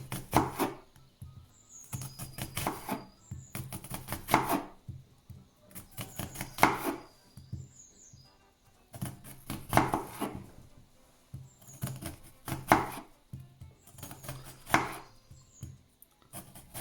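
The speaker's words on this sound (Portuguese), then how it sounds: "pequenos cortes e incisões fininhas até à parte branca" A knife makes small incisions and cuts into an onion on a cutting board, coming in clusters of rapid close taps separated by brief pauses, repeating steadily.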